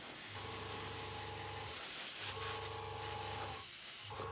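An airbrush sprays Humbrol acrylic dropper paint in three steady hissing bursts of about a second and a half each, close and even, separated by brief pauses.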